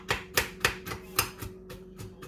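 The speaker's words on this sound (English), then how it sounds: "Just kind of do a rough chop." A knife roughly chopping ingredients for banana bread on a cutting board, about eight sharp, evenly spaced chops close by with no talking.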